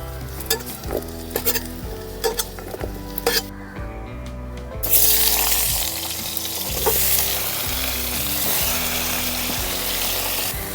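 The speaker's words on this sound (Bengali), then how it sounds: "বেগুনগুলোকে হলুদ লবণ দিয়ে ভেজে নেব।" Eggplant pieces frying in a pan with turmeric and salt for a Bengali fish recipe, a loud steady sizzle with stirring scrapes and occasional clinks of a utensil, close and continuous with no talking.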